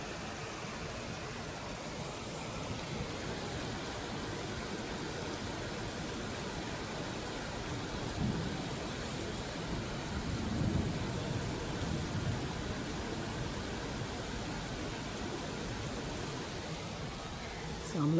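Rain falls steadily at night outside an apartment, a dense even hiss that carries on without a break, with a few faint low rumbles under it.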